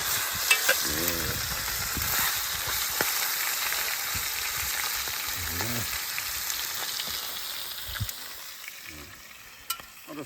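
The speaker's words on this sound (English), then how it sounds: "Still needs a bit more searing yet though. Get it right into that butter." Wallaby meat searing in butter in a pan outdoors in the mountains, a close, steady crackling sizzle with repeated scraping stirs and occasional sharp clinks.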